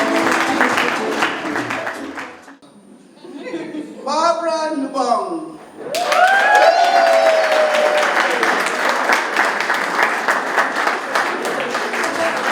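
Audience applause at the DL Awards 2019 ceremony: after an announcer speaks a name over a quieter hall, loud, sustained clapping from a large crowd swells up and continues steadily to the end.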